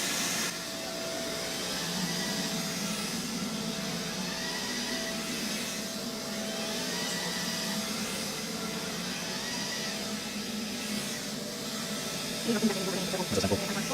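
A Neato XV-21 robot vacuum runs through a lounge room, giving a steady droning whir with a hissy edge that holds throughout, and a few brief clunks near the end.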